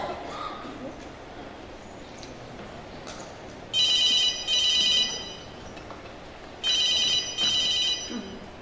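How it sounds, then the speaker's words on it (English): Two bursts of a bright trilling electronic cell phone ring at a school musical performance, each burst a pair of rapid warbling pulses, loud and clear over a low room hum. "The dreaded cell phone symphony returns to our crucible of learning"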